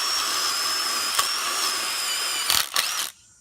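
A 1/4-inch impact driver fitted with a new Bosch bit bores into concrete, a steady high-pitched whine running loud and close for about three seconds, with a few sharp clicks near the end before it abruptly stops.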